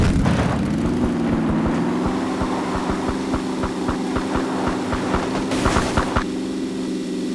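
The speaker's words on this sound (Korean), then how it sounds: "선생님 바로 앞에 차 소리" A steady, low car engine hum in the video game PUBG: Battlegrounds drones throughout, with a faint rhythmic ticking over it and a brief burst of noise near the end.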